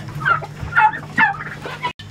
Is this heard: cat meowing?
no